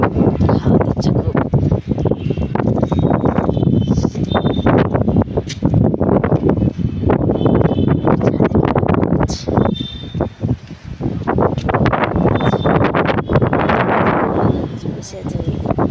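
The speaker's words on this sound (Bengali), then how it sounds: "হাওয়া দিচ্ছে খুব।" A strong wind blows outdoors, a loud continuous roar buffeting the microphone with gusty swells and a brief lull partway through.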